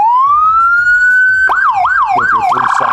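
A SoundOff Signal FR100 series electronic siren sounds a loud, close wail that rises steadily, then switches to a fast repeating yelp with four or five quick cycles before shifting tone again.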